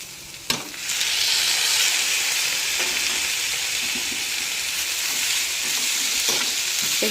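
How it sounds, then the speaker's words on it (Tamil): Onions and tomatoes sautéing in a pan for thakkali thokku give off a steady, loud sizzle and fry hiss, with a sharp clatter near the start and a few faint stirring knocks, and no voices. "இதை போட்டுட்டு கொஞ்சம் வெங்காயம் தக்காளி இன்னும் கொஞ்சம் நல்லா மிக்ஸ் ஆகிற மாதிரி வதங்கட்டும்."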